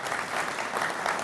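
Audience at a natural resource summit claps in a brief, steady burst of applause, moderately loud and even, with no voices.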